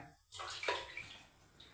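Water splashes and pours briefly into a cooking pot, a short gushing rush that quickly fades, with no talking.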